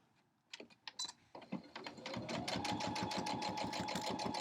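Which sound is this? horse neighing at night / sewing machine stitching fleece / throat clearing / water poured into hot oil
sewing machine stitching fleece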